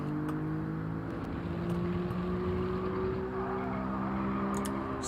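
A race car engine in Gran Turismo 7 holds a steady, loud drone with slowly rising harmonic tones, as if revving up through a gear, continuous and without talk.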